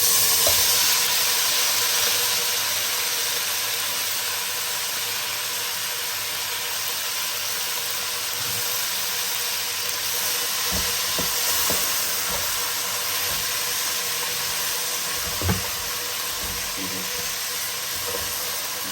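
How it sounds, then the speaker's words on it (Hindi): Spinach frying in a pan for kadhi gives a loud, continuous close-up sizzle and hiss that stays steady throughout, with a few soft knocks near the end and no talking. "थोड़ी देर हम इस पालक को भूनेंगे"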